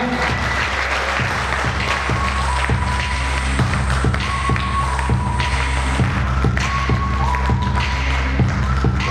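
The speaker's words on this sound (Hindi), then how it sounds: "मिस्टर ओम प्रकाश जी के लिए जोरदार तालियां।" A crowd claps for Mr Om Prakash at the first-anniversary event of ATIFRESH ANMOL, with continuous applause mixed with heavy, thudding beats, steady and fairly loud throughout.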